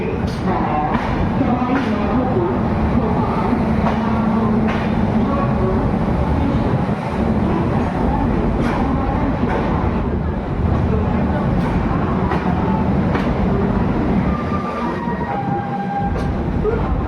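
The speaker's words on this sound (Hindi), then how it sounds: "तो ऑलमोस्ट 15 मिनट्स रुकने के बाद ट्रेन डिपार्चर ले रही है जयपुर जंक्शन रेलवे स्टेशन से" The 18574 Bhagat Ki Kothi–Visakhapatnam Express departs Jaipur Junction with a loud, continuous rumble and rhythmic clatter of wheels over the rails, heard from on board, with brief whistle-like tones near the end and a voice talking over it.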